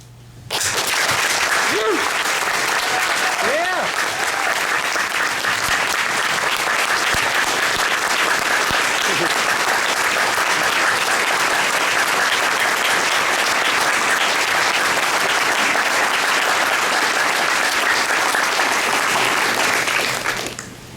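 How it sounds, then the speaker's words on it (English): Audience at a Race Talks evening on hate crimes in Oregon, held at Kennedy School in Portland, applauds William with loud, dense, sustained clapping that runs steadily for the whole stretch, with a few faint voices early on. "I'm going to say to applause, but wait for a moment. When you applause, let William know that he's not alone"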